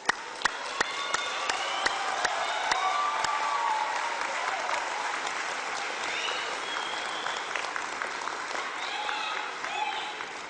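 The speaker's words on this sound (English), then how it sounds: "thank them with a mighty hurrah and a round of applause" Sustained applause from a university graduation audience, steady dense clapping with a few sharp near claps at the start and faint cheering and murmuring voices mixed in throughout.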